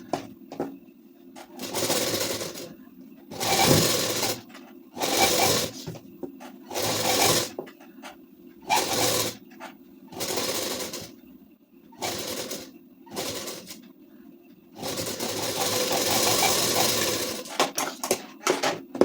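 A sewing machine stitches the folded strip on a ladies suit in close, loud runs of rapid whirring, broken by short pauses and one longer steady run near the end.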